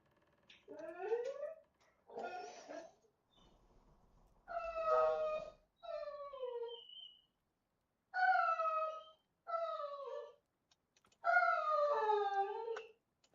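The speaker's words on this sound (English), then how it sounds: "I apologize for those that are hearing my dog in the background" A fussy pet dog whines and howls in drawn-out, wavering cries, repeated in about seven separate bursts with short silences between, fairly close and clear with no talking.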